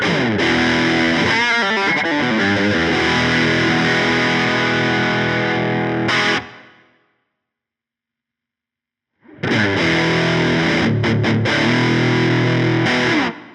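Electric guitar driven through an overdrive pedal, a Wampler TCD (Compulsion Drive) compared with a Fulltone OCD, played as loud, distorted chords and riffs. The playing stops for a few seconds, then resumes just as loud.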